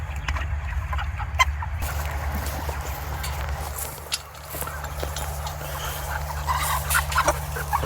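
Farm chickens clucking, with scattered short calls over a constant low mechanical hum, moderately close and fairly busy throughout.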